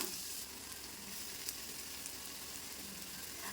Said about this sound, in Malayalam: അതിലേക്ക് കുറച്ച് ഓയിൽ ഒഴിച്ചു കൊടുക്കാം. ഒരു സവാള നീളത്തിലരിഞ്ഞതാണ്, അത് ഇതിലേക്ക് ഇട്ട് കൊടുക്കാം.